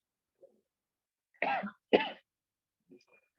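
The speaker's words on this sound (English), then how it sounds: "I am having repeated cough" A lecturer who is unwell coughs two sharp times in quick succession, close and fairly loud, with a few fainter throat sounds before and after in a quiet room.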